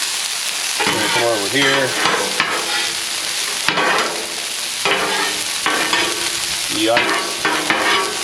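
Raw carrots, cauliflower and broccoli sizzle loudly on a hot griddle top, with repeated scraping and tossing of a spatula breaking up the steady hiss; a voice briefly speaks over it.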